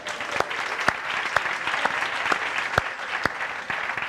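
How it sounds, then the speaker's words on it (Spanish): A room of people at a Spanish-language talk applauds together, with dense, lively clapping and a few sharp louder claps standing out over the wash for a few seconds. "Espectacular, un aplauso, lo habéis hecho muy bien."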